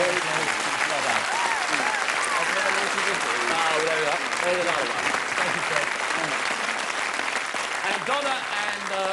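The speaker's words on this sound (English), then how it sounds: "Let's have a nice round of applause." A game-show studio audience gives sustained applause for a newlywed couple of contestants, steady loud clapping throughout while a host talks over it.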